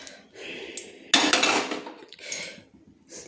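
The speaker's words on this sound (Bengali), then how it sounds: "খুন্তির ডান্ডাটা, কড়াইয়ের ডান্ডাটা ধরে আমি কিন্তু তেলটা নেড়ে নিচ্ছি।" A metal spatula stirring oil in a kadai, with a few sharp metallic scrapes and clinks close by, one louder burst in the middle, and quiet gaps between.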